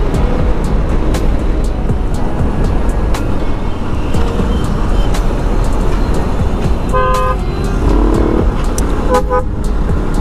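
Traffic roars steadily up close while a vehicle's pressure horn blares in short honks, first in a pair, then again a couple of seconds later.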